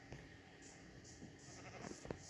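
Sheep bleat faintly in the background, with soft, distant calls over a low, steady outdoor hum.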